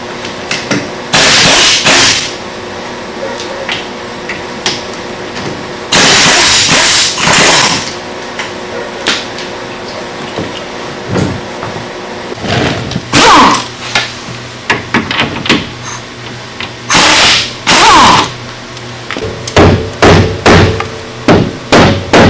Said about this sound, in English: Noticed I used a rubber mallet